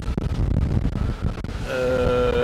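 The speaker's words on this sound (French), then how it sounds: "J'ai par moment 22-23 nœuds de vent." Strong wind of 22 to 23 knots rushes over a sailboat off the Île de Ré, a loud, buffeting roar with low thumps and hull noise, joined near the end by a steady whistling tone.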